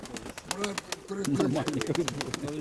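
Fancy domestic pigeons kept by an elderly keeper coo in a series of soft throaty calls, close by, alongside a voice talking.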